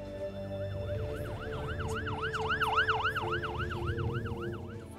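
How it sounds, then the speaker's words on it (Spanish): An ambulance siren in a film scene wails in a rapid rising-and-falling yelp, growing louder toward the middle as it passes close by, then fading slightly, over low traffic rumble. "La ambulancia pasó por ahí por casualidad"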